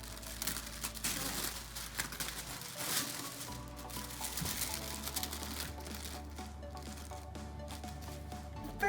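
A kidpik subscription box is opened by hand, with close crinkling, rustling and tearing of its packaging in irregular bursts over a low steady hum.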